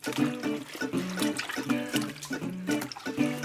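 Tap water runs and splashes in a sink while turnip greens are washed, a close, steady gush with rhythmic sloshing as the leaves are moved through it.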